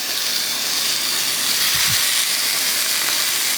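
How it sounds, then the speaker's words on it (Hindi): Meat searing in a very hot pan while steam-cooked gosht is being made, a loud, steady sizzling hiss throughout with a short low thump partway through as pieces are laid down. "तो ये बेसिकली सीरिंग की आवाज़ है"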